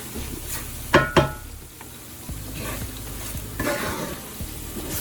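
Onion gravy for smothered steak sizzles loudly as it browns in a pan, with a steady frying crackle and two sharp utensil scrapes as it gets stirred.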